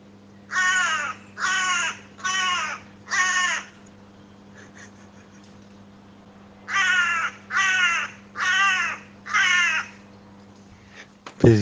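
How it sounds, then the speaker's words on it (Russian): A crow caws harshly and close by in two runs of four evenly spaced calls, with a quiet pause between the runs and a steady low hum underneath. "Она так каркает"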